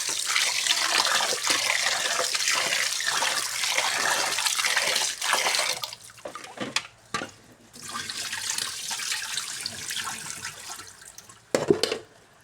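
Something being washed under running water from a tap, with a steady close splashing stream for several seconds that pauses and resumes, broken by short clattering handling sounds.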